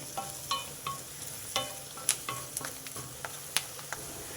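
Curry leaves and turmeric fry in hot oil in a pan for an eggplant paneer curry, giving a steady sizzle broken by sharp clicks and scrapes of a spoon stirring, close up with no talking.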